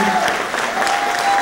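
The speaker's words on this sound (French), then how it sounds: "je voudrais vraiment qu'on donne très chaleureusement l'applaudissement à Ève Lafontaine." Applause from a gala audience at a cultural awards ceremony, a short stretch of steady clapping from the crowd.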